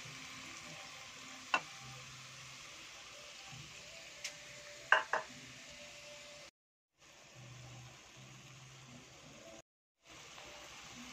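Egg frying with bitter gourd (ampalaya) in a pan, a faint steady sizzle broken by a few sharp utensil clicks against the pan, with two short silent cuts.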